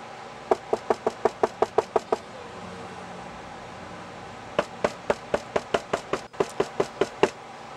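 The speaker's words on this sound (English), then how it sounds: "Sounds like a visitor at the door." Two rapid series of firm knocks on the door of an RV, about eight raps each, separated by a pause of a couple of seconds, close and distinct over a quiet background hum.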